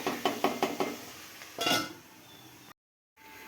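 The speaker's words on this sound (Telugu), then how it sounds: "కాసేపు మగ్గనిద్దామండి మూత పెట్టేస్తున్నాను" A metal lid is set onto a cooking pot of onions, preceded by a quick run of four or five light clinks and knocks, then a louder single clatter as it settles, followed by quiet.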